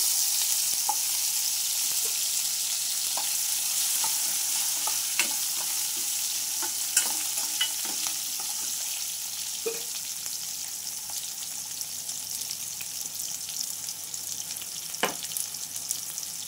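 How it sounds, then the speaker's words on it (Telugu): Boiled jackfruit seeds frying in hot oil for a curry, a steady close sizzle with scattered small pops and occasional stirring clinks throughout, no voices. "తర్వాత ఉడికించిన పనసగింజల్ని ఆయిల్లో ఫ్రై చేసుకోవాలి."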